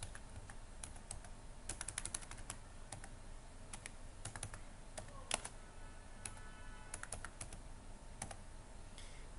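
Keys clatter on a computer keyboard in irregular bursts of clicks while comments are typed in, each keystroke close and crisp over a faint steady background hiss, with no speech.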